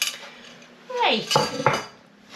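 A spoon scrapes and clinks against a metal pot of lamb and lentil soup during a quick stir, making a few loud close knocks and a sliding scrape, with no talk.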